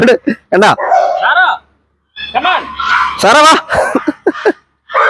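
A big Great Dane barks and yips close by in a few loud bursts, mixed in among a person's talking.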